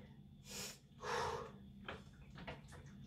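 Two sharp, forceful inhalations and exhalations through the nose and mouth during a bodyweight rowing pull exercise for the back, close and breathy with short pauses between.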